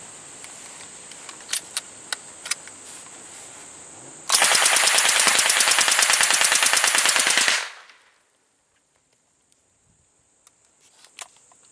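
A fully automatic firearm, a Class 3 weapon, fires one sustained burst of roughly three seconds, loud and rapid, after a few faint clicks of handling in a quiet space. A soft click follows once the burst ends.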